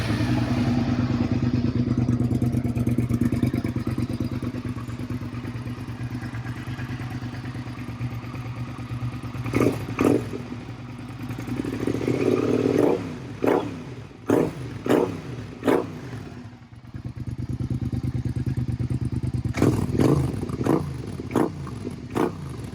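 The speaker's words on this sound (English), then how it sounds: "I'll go ahead and start her up real quick, give you guys a little sound check." A 2006 Suzuki SV650 motorcycle idles with a steady low rumble, then gets repeated sharp throttle blips that rev up and drop back, close and loud, with no talk.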